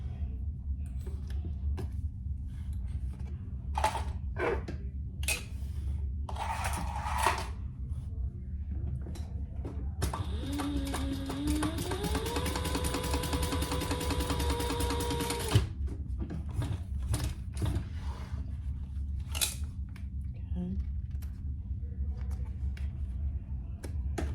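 A sewing machine stitches the bottom of a Horizon sling in one continuous run of about five seconds, rising in pitch as it speeds up, amid quieter handling clicks and rustles before and after.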